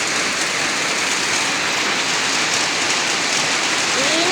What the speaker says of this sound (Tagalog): Umula na siya ng malakas